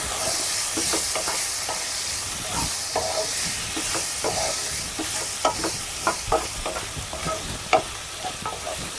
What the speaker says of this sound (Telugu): స్ప్రింగ్ ఆనియన్స్ వేసి బాగా కలుపుకోవాలి